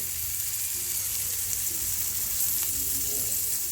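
Ingredients for dahalya amti roast in a pan, giving a low, even sizzle and crackle throughout, faint and steady with a light scrape or two.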